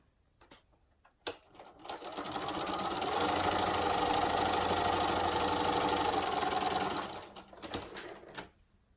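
A sewing machine stitches along the edge of a log cabin quilt block strip, starting from a corner, in a steady, close mechanical whir lasting about five seconds, with soft handling clicks before and after and no talking.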